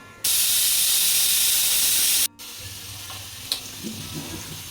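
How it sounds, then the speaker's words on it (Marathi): A pressure cooker on the stove lets out a loud, steady steam whistle for about two seconds while rice cooks, then cuts off abruptly, leaving a faint hiss and light kitchen clatter. "कुकरला लावूया आपण झाकण आणि भाताला आपण शिजून घेऊ. 1 शिट्टी फुल आचेवरती, 2 शिट्टी आपल्याला कमी आचेवरती करून घ्यायच्यात."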